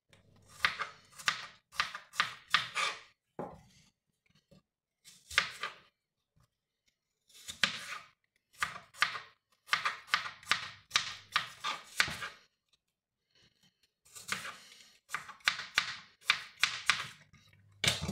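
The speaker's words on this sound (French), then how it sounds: "je vais les couper en petits cubes" A knife dices apples into small cubes on a board for a cinnamon apple tart, with rapid bursts of crisp, close chopping taps separated by short pauses.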